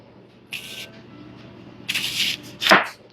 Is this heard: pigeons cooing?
no